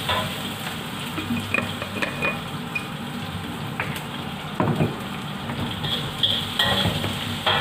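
Steady sizzling of chicken liver being stir-fried in a hot pan, with intermittent scraping and clinks of a utensil against the metal.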